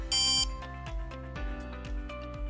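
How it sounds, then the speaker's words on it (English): SenseCAP Tracker T1000 buzzer giving a short, loud, bright high-pitched ring lasting about a third of a second right at the start, then falling silent beneath quiet background music. "wait for a few seconds until you hear a successful buzzer ring"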